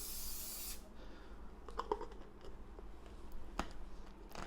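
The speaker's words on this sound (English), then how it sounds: "Just put in some spray oil." A short burst of cooking-oil spray hiss into a pan at the start, followed by quiet clicks and small clatters nearby.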